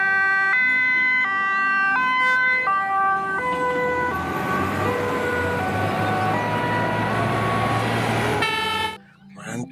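A toy fire truck with a water cannon plays a loud electronic two-tone siren, stepping between high and low notes, then turns into a noisy whirring wail before cutting off abruptly near the end.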